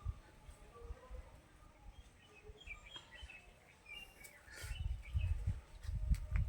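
Small birds chirp faintly at a nest with chicks beside a quiet courtyard, giving scattered high tweets, while soft low rumbling handling noise builds toward the end.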